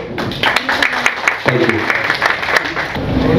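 Audience applause at a singer's performance dedicated to his wife, steady crowd clapping filling the moment, with a voice briefly audible over it.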